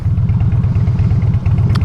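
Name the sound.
motorcycle passing on the road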